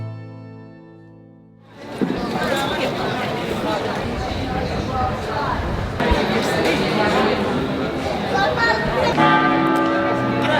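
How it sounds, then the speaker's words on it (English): A church bell rings steadily in Dubrovnik Old Town, loud and close, over a busy crowd murmur, with a person talking throughout. "pardon the bell in the background"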